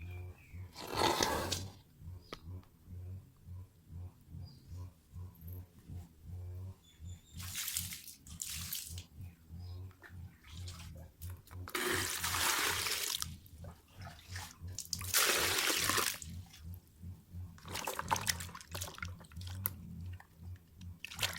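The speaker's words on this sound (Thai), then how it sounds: "ล้างขา นี่ จะล้างหัวขานะคะ" Galangal rhizomes being rinsed by hand in water, with bursts of splashing and sloshing between quieter stretches of squishing and rubbing, close by.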